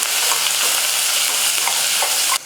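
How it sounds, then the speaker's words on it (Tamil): Onions, green chillies and curry leaves sizzle loudly in a pan for a cabbage poriyal, a dense unbroken frying hiss, close up and steady, that cuts off abruptly near the end, with no voices. "இந்த வெங்காயம்லாம் வந்து நல்லா வதங்கணும்"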